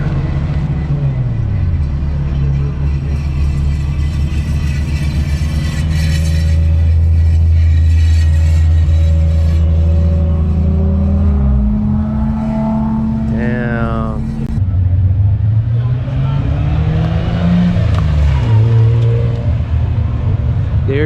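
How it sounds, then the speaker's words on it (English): A new, full bolt-on Nissan Z sports car driving on a track, its engine droning and rising and falling in pitch through shifts, loud and close, while people talk over it. "They just got a new Z, and basically it's full bolt-on."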